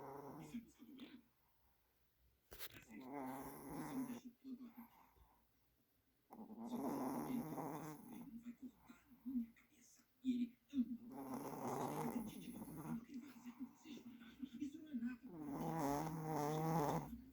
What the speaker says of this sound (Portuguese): quem verdadeiramente tá roncando aqui nessa casa.